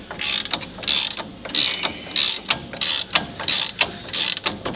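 A ratchet with a deep socket works on a truck, giving rhythmic bursts of loud clicking pawl sounds, each lasting about half a second, repeated steadily and close.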